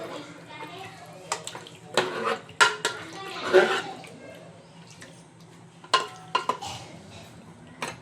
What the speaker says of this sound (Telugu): పొయ్యి మీద పెట్టుకున్న చికెన్ని ఇలా కలుపుకుందాం